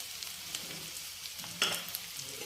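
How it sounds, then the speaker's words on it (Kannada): Chopped ivy gourd tumbles into hot oil with already fried onions, setting off a steady frying sizzle with a brief louder splash midway and some stirring clatter, no voices. "ನಂತರ ಈಗ ತೊಂಡೆಕಾಯಿ ಕಟ್ ಮಾಡಿ ಇಟ್ಕೊಂಡಿದ್ವಲ್ಲ, ಆ ತೊಂಡೆಕಾಯಿನ ಹಾಕ್ಕೋಬೇಕಾಗುತ್ತೆ."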